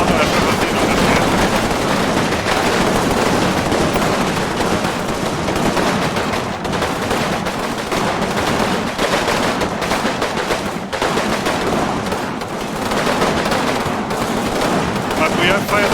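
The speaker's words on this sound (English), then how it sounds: "Look at all these rifle grenades that we know as well, just firing at the Germans." Rifle grenades and rifle fire pound German troops in the World War II video game Combat Mission Rome to Victory, forming a dense, unbroken wall of battle noise with overlapping shots and blasts throughout.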